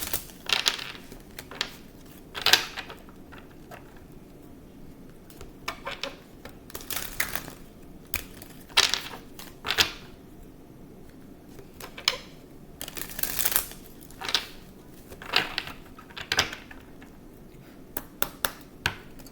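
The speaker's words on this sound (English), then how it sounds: "Feeling the urge to shuffle the cards." Tarot cards are shuffled by hand, giving irregular crisp riffling slaps and clicks that come in quick clusters with short gaps, close and fairly loud.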